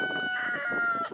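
A backyard rooster from a Whiting True Blue chicken flock crows once, close and loud, in a long drawn-out call that falls away at the end.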